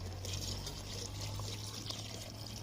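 Water pours steadily into a pot of mutton curry cooking with mango over a wood fire, a soft continuous trickle over a low background hum, close but quiet.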